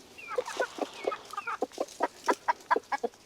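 Chickens, including a newly arrived rooster, cluck close by in a quick, steady run of short, bright calls that grow louder and more regular toward the end, with no talking.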